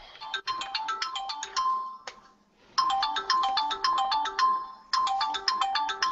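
A phone ringtone plays a bright, repeating electronic melody in loud bursts, cutting out briefly and then starting again twice, with no talking over it, indoors.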